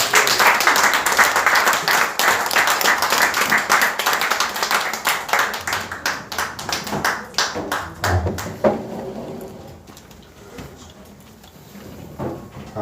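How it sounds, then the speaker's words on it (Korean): Audience applause welcoming a speaker at a lecture event: dense clapping from many hands for several seconds, thinning to scattered claps before fading to quiet. "여러분 큰 박수로 우리 모시겠습니다"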